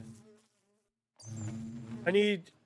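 Bees buzzing in the Minecraft Productive Bees mod, a close droning hum that cuts in after a short gap and holds for over a second, with a brief rising buzz at the end.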